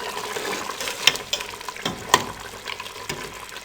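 Mutton with ginger-garlic paste is stirred in a pot. There is a soft wet sizzle, and a few sharp clinks of the spoon against the metal pot stand out.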